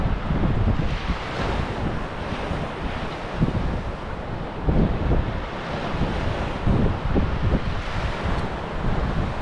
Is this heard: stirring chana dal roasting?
no